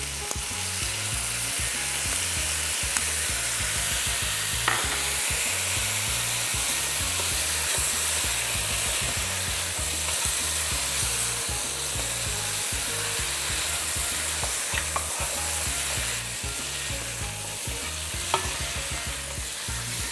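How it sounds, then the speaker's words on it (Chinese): Pork trotters tossed with light soy sauce in a hot wok, a dense, loud sizzle running throughout, with regular stirring scrapes and occasional sharp clinks, close by and free of speech. "过后将生抽也倒下去一起爆炒"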